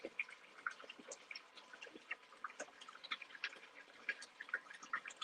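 Aquarium tank being rinsed as tap water fills it, producing a busy run of small drips, plinks and splashes, close and fairly quiet, with no talking.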